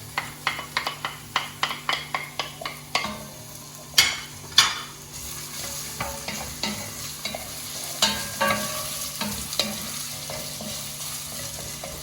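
Ginger, garlic and onions frying in vegetable oil give a steady hiss beneath a quick series of sharp stirring scrapes and taps of a utensil against the pan, all close by with no talking.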